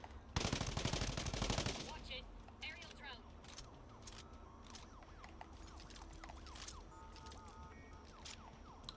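Video game gunfire in Ghost Recon Breakpoint, an opening burst of rapid automatic shots followed by scattered sharper single reports and mechanical clicks, fairly quiet, with a player's voice coming in at moments.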